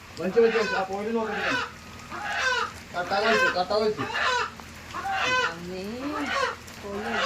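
A chicken pulled from a well after four years of being trapped clucks repeatedly in close, uneven bursts while people talk nearby.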